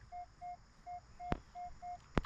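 Metal detector in the field giving short repeated signal beeps at a steady pitch, about six evenly spaced tones with a couple of sharp clicks between them, close and fairly quiet.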